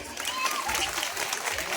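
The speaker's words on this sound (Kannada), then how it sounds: "ಚಪ್ಪಾಳೆ ಆಡ್ಬೇಕು ಒಂದು ಎರಡು ಮೂರು ಸ್ಟಾರ್ಟ್" An audience claps on cue at a live music stage show, a dense, continuous patter of many hands that stays even and moderately loud throughout.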